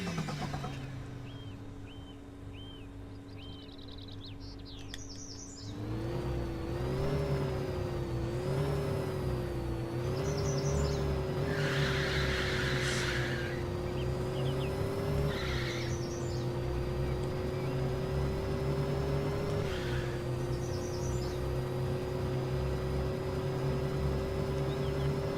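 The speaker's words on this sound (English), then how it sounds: "we should have a much quicker launch because we're getting to gear quicker" A Gen 4.5 performance car launches hard on a quarter-mile run, its engine note climbing steadily through the gears after a quieter idle, loud and close with a sustained rising drone.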